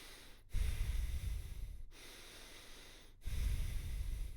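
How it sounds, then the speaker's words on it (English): Slow breaths drawn in through the nose, two long airy inhales split by brief pauses, close and quiet with no talking. "So breathe through your nose this way."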